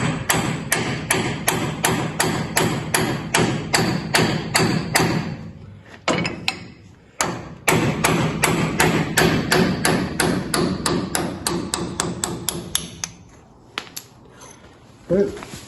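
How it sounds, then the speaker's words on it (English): Hammer knocking a pin out of an F1 car's suspension, a long run of sharp, evenly spaced metallic strikes, close and loud, with a short pause midway and quieter hits toward the end. "So we knock that pin out first."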